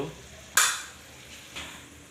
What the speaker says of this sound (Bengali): এখন এটা মশলাটা কষিয়ে নিচ্ছি